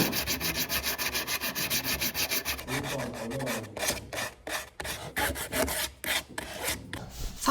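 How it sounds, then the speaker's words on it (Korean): Sandpaper rasps steadily against a hand-carved wooden Hahoe mask in continuous strokes, then in quicker back-and-forth rubs, close and fairly loud with no voices. "이제 사포를 가지고 투박한 면만 좀 다듬어 줄게요."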